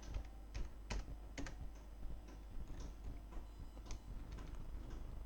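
Close, quiet clicks of a computer keyboard being typed on, short irregular bursts of keystrokes with brief pauses, alone without talk.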